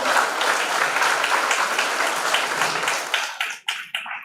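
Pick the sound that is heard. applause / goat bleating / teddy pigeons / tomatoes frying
applause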